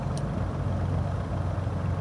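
Twin-engine Cessna 404 Titan in Microsoft Flight Simulator 2024, its engine droning steadily at idle on the ground with a low, even rumble and no speech.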